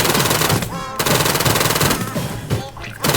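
Rapid, loud automatic gunfire from a modern gun in modded Hollow Knight, dense bursts separated by brief pauses, up close and overpowering with no talk.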